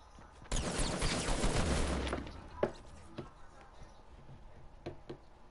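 Video game gunfire from a silenced SMG, a rapid rattling burst in the first two seconds followed by scattered single sharp shots and clicks, fairly faint in the mix.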